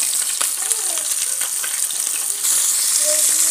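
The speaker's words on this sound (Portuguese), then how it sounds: "Acabei de botar na gordura, hein, quente aí, ó." Small voador fish from the Araguaia river fry in hot fat, producing a loud, continuous close sizzle and crackle.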